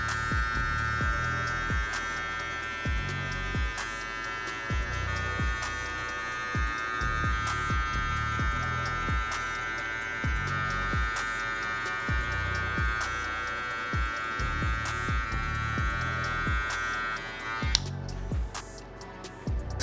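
Hair clippers fitted with a 1.5 guard and the lever at three-quarter open buzz steadily and close up while blending a child's fade, the motor's whine holding for nearly twenty seconds with soft rhythmic pulses from passes through the hair before cutting off.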